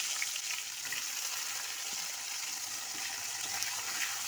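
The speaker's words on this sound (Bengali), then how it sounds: "এবারে এইটা পেঁয়াজ কুচি তুলে দিচ্ছি।" Steady hissing sizzle of chopped onions frying in a pan with chilli, bay leaves and five-spice, even and continuous, fairly quiet with no voices.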